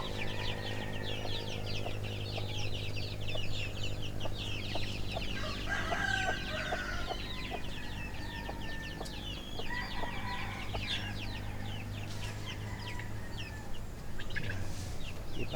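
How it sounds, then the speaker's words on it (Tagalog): Native Tagalog chickens cluck and chatter continuously nearby, with scattered calls over a steady low background hum. "May alaga siyang mga manok na Tagalog."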